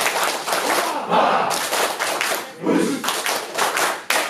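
Group doing a rhythmic clapping cheer in a meditation and breathing workshop, sharp clap bursts in short counted sets with a group shout, loud and close.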